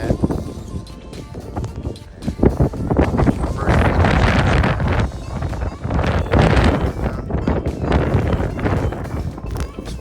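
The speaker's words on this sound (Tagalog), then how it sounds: "sobrang lamig at sobrang lakas ng hangin" Strong, cold wind roars in a snowstorm on Prince Edward Island, loud gusting rumble and buffeting against the microphone throughout, rising and falling in surges.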